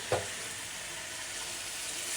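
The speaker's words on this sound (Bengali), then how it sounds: "আমি ভালো করে মশলাটা কষিয়ে নিব" A raw ground spice paste fries for goat curry, a brief stirring clatter at the start, then a continuous, even sizzle from the pan with no talking.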